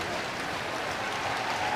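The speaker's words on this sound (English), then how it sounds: "Everyone's still cheering here." A crowd in an indoor arena cheers and applauds after a horse driving round, a dense, steady wash of clapping and voices that holds at a constant loud level.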